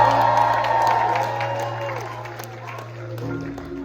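A crowd at an event cheers and claps, with scattered whoops and a sustained hum beneath, the noise loud at first and fading gradually over a few seconds.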